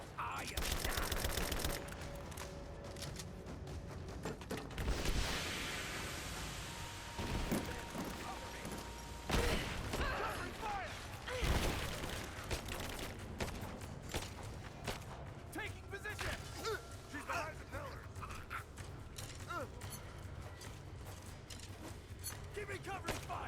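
Rapid bursts of gunfire and automatic weapons crackle through a firefight in Rise of the Tomb Raider, distant to mid-range and irregular, mixed with footsteps and clanks while voices shout now and then.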